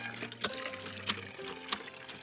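Water splashes and trickles from a newly installed hand pump serving a few homes in the Thar Desert, a faint, uneven gurgling with brief splashy spurts and a steady tonal hum beneath.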